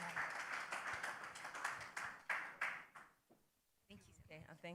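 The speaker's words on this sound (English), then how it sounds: "Round of applause. Please join me as she comes on stage." An audience at a college prize-giving day claps as the principal comes on stage, scattered thick clapping that swells in waves, then dies away to near silence before a voice begins speaking.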